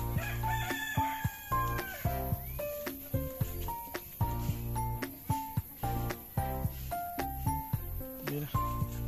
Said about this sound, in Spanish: Ahí anda su gallo.